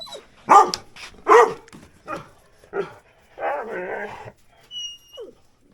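A dog barks several times in short, separate bursts, followed by a drawn-out whine and a faint high whistle.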